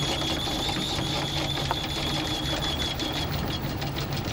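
An anchor chain being hauled up aboard a boat, a continuous mechanical rattling and whirring drone with a steady metallic whine, close and fairly loud, with no voices.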